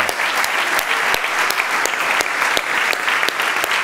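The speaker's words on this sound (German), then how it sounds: "Wir müssen schnell mal Applaus überbrücken." Loud, continuous applause from a business sales-session audience, dense clapping with a few sharper individual claps standing out, sustained without letup throughout.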